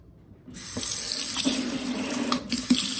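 After a brief quiet moment, a faucet turns on and water runs steadily into a sink, close and hissing, with a few light knocks.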